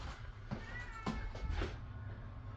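A pet cat meows near an attic opening, a few short, plaintive meows close by over steady background hum, no talking.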